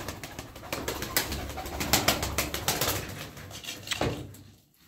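Pigeons in a loft, soft repeated cooing and rustling at close range, steady for several seconds before fading out.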